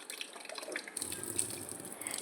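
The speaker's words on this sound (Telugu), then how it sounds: "బంద్ చేయి, ట్యాప్ బంద్ చేయి." Water runs steadily from a household tap, a continuous close splashing hiss that starts abruptly partway through after a quieter, thinner trickle.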